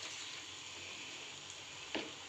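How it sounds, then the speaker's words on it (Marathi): Okra frying in hot oil in a kadhai over a low flame, a steady soft sizzle throughout with one brief louder pop near the end. "भेंडीला आपण टाकलेलं आहे कढईत"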